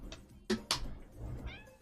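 A cat meows twice in quick succession near the microphone, with brief rustling and faint indoor noise around it.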